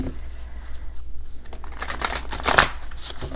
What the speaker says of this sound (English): So please forgive me as I work through the shuffling of this deck.